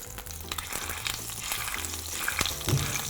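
Steady frying sizzle of thyme in a hot pan, crackling and hissing continuously, with a few small stirring knocks.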